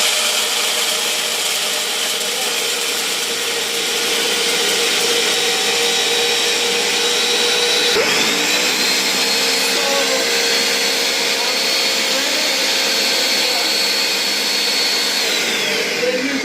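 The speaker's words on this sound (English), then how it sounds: "blender." A loud Nutri Ninja blender grinding peanuts into peanut butter runs continuously, a steady grinding whir that briefly shifts pitch midway and keeps churning without pause.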